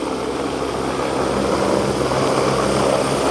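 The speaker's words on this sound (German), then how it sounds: "Ja, das ist der Heli." A helicopter runs close by on the ground before a flight, a loud steady roar of rotor and engine with no letup.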